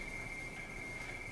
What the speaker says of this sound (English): This is radio teletype, and it sounds like this.